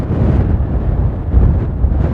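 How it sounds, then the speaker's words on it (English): Brisk wind buffets the microphone on an English coast path between Bradwell and St Lawrence, a loud, low, continuous rumble with gusty swells throughout. "this wind is quite brisk"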